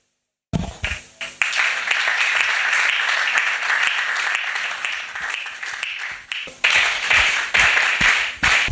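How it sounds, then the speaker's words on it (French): A church congregation gives a loud, sustained round of applause for the Lord, dense clapping that begins suddenly and carries on steadily with a few swells and dips. "On acclame fort pour le Seigneur."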